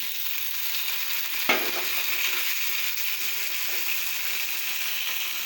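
Jalla fish curry sizzles steadily in a hot pan, with a sharp burst and clatter as chopped tomatoes drop in, then a continuous close frying hiss with faint stirring scrapes.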